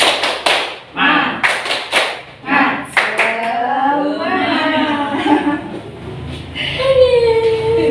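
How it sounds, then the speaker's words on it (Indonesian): A group of school pupils and their teacher beat out a rhythmic spirit clap, with sharp clusters of claps in a patterned beat followed by voices chanting and shouting together. "Kita tepuk semangat dulu ya"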